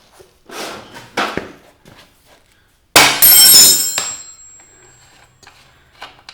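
A rubber hammer strikes during rear wheel and front sprocket removal on a Honda CBR250R MC19 motorcycle: several sharp knocks ring out, then a loud metallic clang with a lingering ring, followed by quieter scattered taps.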